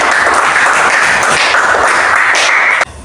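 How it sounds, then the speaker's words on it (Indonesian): Classroom children applaud together, a dense, steady crackle of many hands clapping close by that cuts off sharply just before the end. "Ya, tepuk tangan untuk semuanya."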